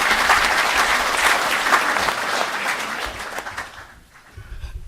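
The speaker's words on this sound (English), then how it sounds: "Can we give them another round of applause?" Loud applause from the audience at a Zimbabwe–South Africa business forum, dense clapping that gradually thins and fades out over the last second.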